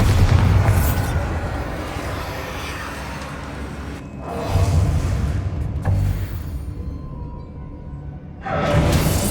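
Bombarda blasting spells go off in Hogwarts Legacy combat, heavy booming explosions rumbling one after another amid a loud, dense wash of game effects.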